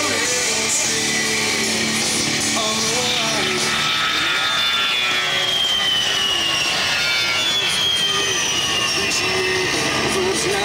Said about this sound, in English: the world's most heavily armed and armored close air support aircraft, the rugged and dependable A-10 Thunderbolt II